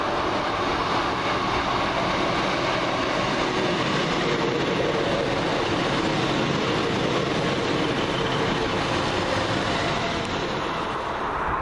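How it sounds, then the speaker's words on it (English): Northern Rail class 156 diesel unit 156491, the delayed Liverpool Lime Street to Manchester Oxford Road service, arriving at Warrington station, a steady broad rumble and rail roar held at constant loudness throughout with no talking. "Now coming in the slightly delayed 1605 Northern Rail service from Liverpool Lime Street to Manchester Oxford Road."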